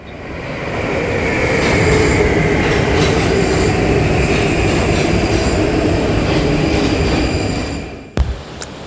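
A train runs steadily on rails in Europe, a loud continuous rolling rumble with faint rail squeal that fades near the end, followed by a sharp clatter.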